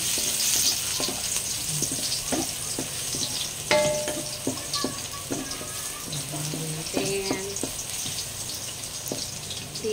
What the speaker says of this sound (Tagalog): Lagay na natin ng ating bawang.